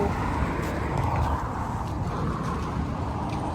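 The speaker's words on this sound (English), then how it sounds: "And that's the traffic jam going to the city." Road traffic jammed on the way into Honiara, heard from beside the Mataniko River as a steady, dense broadband rumble of idling and creeping vehicles, fairly distant and unbroken throughout.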